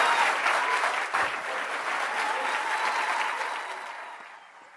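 An audience at a board meeting claps after a public speaker, the applause starting strong, holding steady, then gradually thinning and fading away toward the end.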